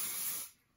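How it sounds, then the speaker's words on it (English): A single short burst of aerosol spray hisses up close, then tapers off quickly into quiet. "I'm just going to spray this section again"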